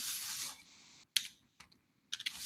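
Quick bursts of keystrokes on a computer keyboard as a search is typed in, close and fairly faint, with short pauses between the clusters of taps.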